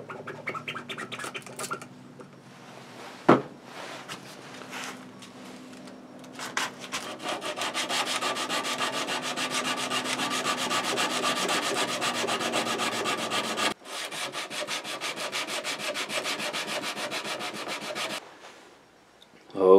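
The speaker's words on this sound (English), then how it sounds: "Just gonna use basic glass cleaner on the blade, and just use that as my lubricant to begin hand sanding." Hand sanding a knife blade lubricated with glass cleaner, a quiet start with a few knocks giving way to a continuous rhythmic rasping scrub of sandpaper on steel, briefly pausing once and fading out before a final clunk.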